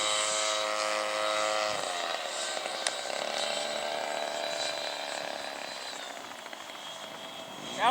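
A radio-controlled CRJ-200 model jet comes in to land in a gusty crosswind, its steady high-pitched turbine whine holding at a constant level throughout with no talk over it.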